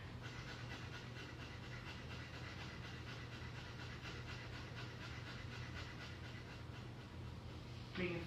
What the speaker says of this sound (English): And breathe very fast,